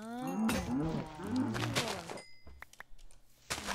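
Cattle mooing in the Minecraft 1.4.5 video game, several drawn-out lowing calls close by in the first two seconds, followed by quieter scattered game sounds.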